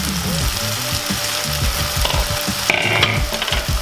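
Chicken thighs and onions fry over medium-high heat in a pan while being flipped. A continuous close sizzle runs throughout, with knocking clatter and scraping as the pieces are turned.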